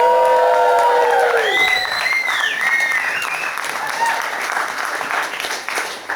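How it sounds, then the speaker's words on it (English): Wedding guests at a groom's speech burst into loud applause mixed with cheers and whistles, strongest at first and then tapering into steadier clapping from a sizable crowd. "can I have a cheer for my beautiful wife?"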